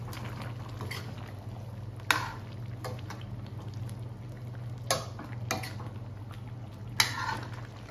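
Hang Lay curry, a northern Thai pork curry, simmers steadily in a pot with a low continuous bubbling hum, broken by a few sharp clinks of a spoon or ladle against the pot.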